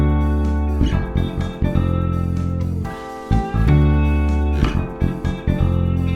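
Bass line built from a guitar part's rhythm and the roots of its chords, plucked close and full with steady repeated notes over a backing groove, loud and continuous without talk.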